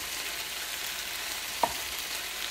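Hoisin pork stir-frying in a hot pan gives a steady, even sizzle throughout, with one brief sharp clink of a utensil partway through; no talking.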